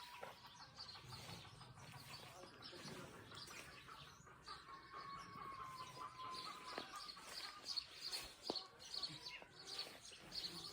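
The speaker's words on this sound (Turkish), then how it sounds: "Susuyorum ve sizi kuşların Sesiyle baş başa bırakıyorum." Birds chirp and call in an apricot orchard in Iğdır, a busy chorus of tweets and trills at varying distances, soft and steady over a quiet outdoor background.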